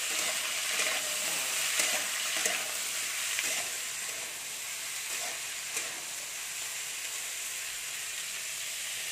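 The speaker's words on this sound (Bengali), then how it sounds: "তেলটা গরম হয়ে গেছে, এর মধ্যে আমি ফুলকপি আর আলুটা নিয়ে ভেজে নিচ্ছি" Cauliflower and potato pieces frying in hot oil, a bright, steady hiss of sizzling with a few soft stirring taps early on, easing slightly in loudness later.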